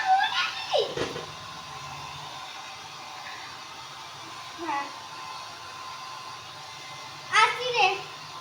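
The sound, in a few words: dryer drying clothes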